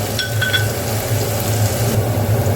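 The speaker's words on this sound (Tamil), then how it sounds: "நல்லா வதங்கி வரட்டும் ப்ரௌனாக" Onions sautéing in a pan until brown for Jaffna-style egg curry, a steady close sizzle and fry with a constant low hum underneath and a few faint clinks, no talking.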